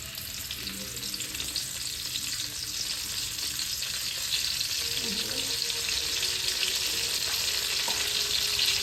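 Curry leaves fry in a couple of spoons of oil in a pan for a mushroom curry, giving a steady, fairly loud crackling sizzle throughout with a few brief stirring scrapes.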